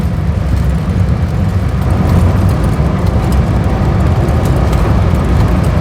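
A car drives along an ordinary highway rather than an expressway, giving a loud, steady roar of engine and road noise that runs unbroken from start to finish.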